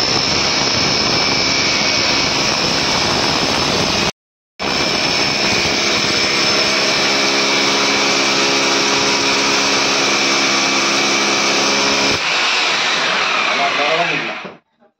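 A power drill bores steadily into a wall during an air conditioner installation, a loud continuous whine that breaks off briefly once and then runs on before stopping, with talk in the background.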